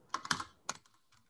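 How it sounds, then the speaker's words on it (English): Quick bursts of keystrokes on a computer keyboard, a cluster of clicks followed by a second short flurry, close and crisp in an otherwise quiet room. "sorry, I'm typing so bad today."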